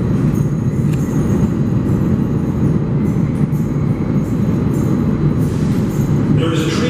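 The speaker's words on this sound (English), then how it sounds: "Here comes the train, track one." A subway train pulls into track one at the new South Ferry terminal, a loud, steady rolling roar of wheels on rails with faint high squeals, heard close from the platform as people talk.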